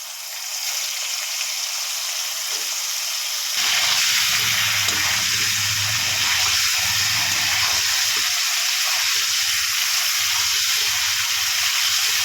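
Cauliflower florets frying in the same oil used for potatoes in a vegetarian Bengali dish, a steady loud sizzle and hiss that jumps louder as the pieces go in, then keeps bubbling evenly, with no voices.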